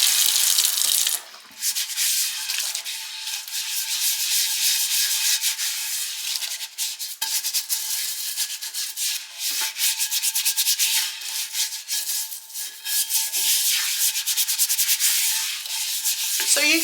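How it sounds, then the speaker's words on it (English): A skillet is scrubbed with soap and water, giving continuous bright abrasive rubbing strokes, close and loud, with brief pauses and no talking. "I'm just going to put some water in it. And we're going to scrub it with the soap."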